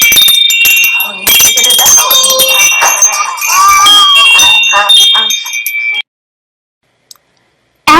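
Wind chime struck by a young child after it had been tangled up, bright metallic ringing tones layered densely for several seconds, close and loud, with a person talking over it, then near silence with a couple of faint taps.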